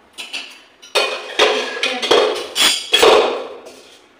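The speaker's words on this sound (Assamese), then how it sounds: "এইফালে কেৰাহী পাতি দিলোঁ" A metal wok (kerahi) is handled and set onto a gas stove, producing a series of sharp metallic clanks and scrapes, close and loud, in irregular bursts.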